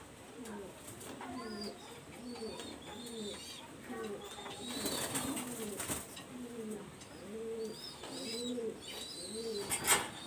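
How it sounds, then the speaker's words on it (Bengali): Teddy pigeons, including a single pure male, coo in repeated low rolling calls close by, with faint chirps and a brief burst of wing flapping or rustling near the middle and a sharp knock near the end. "এটা জনসিনার টেডি, এটা সিঙ্গেল নর কবুতর।"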